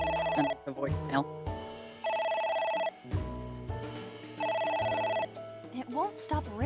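Repeated electronic ringing from a phone in AI: The Somnium Files, three clear bursts with short gaps, loud and near, over background game music and intermittent speech.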